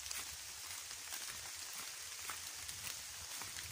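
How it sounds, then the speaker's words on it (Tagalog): Steady, soft rain falling, a continuous hiss with faint scattered drop patters and nothing else. "laging umuulan din"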